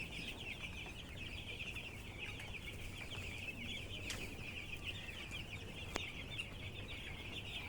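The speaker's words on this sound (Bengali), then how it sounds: "মুরগিগুলো আল্লাহ রহমতে মোটামুটি সুস্থ আছে" A flock of eight-day-old chickens on a poultry farm makes a dense, continuous chorus of high peeping and clucking, with an occasional sharp knock cutting through.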